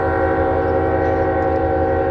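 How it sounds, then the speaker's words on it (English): An eastbound freight train hauling loaded auto racks rolls past in Voorheesville, a loud continuous close roar with a steady sustained horn tone over rumbling wheels. "840 eastbound. Loaded auto racks."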